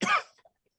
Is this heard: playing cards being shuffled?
no